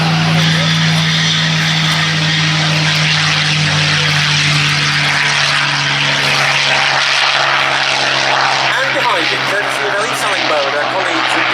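A North American TF-51D Mustang piston fighter taking off at an air festival at Duxford Airfield, its propeller engine roaring loud and steady throughout while an announcer's voice runs over the sound.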